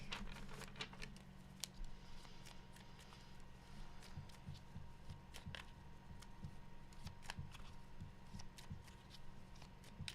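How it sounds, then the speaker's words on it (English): A deck of tarot cards is shuffled by hand in a quiet room, giving faint, repeated riffling and soft flicking snaps in short bursts over a low background hum. "Last shuffle."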